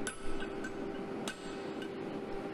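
A 15 kg blacksmith hammer strikes a hot workpiece in a smithy workshop, giving a few sharp metallic impacts against a steady background hum and ringing, with no talk.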